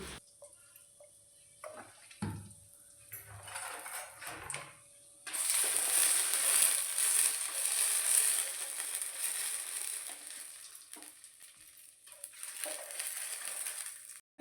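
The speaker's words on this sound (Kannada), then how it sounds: "ಈಗ ನೋಡಿ ಒಂದು ಇಪ್ಪತ್ತು ಮೆಣಸನ್ನು ನಾನೀಗ ಫ್ರೈ ಮಾಡ್ತಾ ಇದ್ದೇನೆ ಇಪ್ಪತ್ತು ಮೆಣಸನ್ನು ಅದಕ್ಕೆ ಸ್ವಲ್ಪ ಎಣ್ಣೆ ಹಾಕಿ ಫ್ರೈ ಮಾಡಬೇಕು" About twenty red chillies frying in a little oil, a close crackling sizzle that swells up after a few quiet seconds with scattered pops and stirring clicks before, no one speaking.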